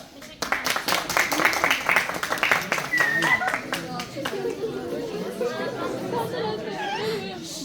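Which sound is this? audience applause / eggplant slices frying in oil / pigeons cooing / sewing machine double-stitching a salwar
audience applause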